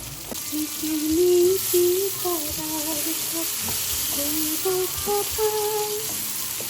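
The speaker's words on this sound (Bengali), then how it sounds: "কড়াইটা গরম হয়ে গেছে তেল দিয়ে দিচ্ছি এটা গরম হয়ে গেছে আমি এখন এতে দিয়ে দিচ্ছি পেঁয়াজ" Onion, garlic and tomato frying in hot oil in a wok, a steady close sizzle and hiss running under a voice speaking Bengali throughout.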